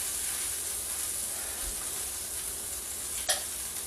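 Pork pieces browning in a pan for Spanish-style pulled pork, giving a steady close sizzle and hiss throughout, with one brief scrape or clink near the end.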